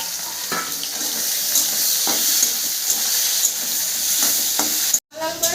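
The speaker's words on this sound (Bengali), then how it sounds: "এবার দিয়ে দেবো পেঁয়াজ টমেটো কুচি একসঙ্গে এটা কষে নেবো" Chopped onion and tomato sizzle steadily in a hot pan for a crab curry, with intermittent scrapes and stirring clicks from a spatula, broken by a brief gap near the end.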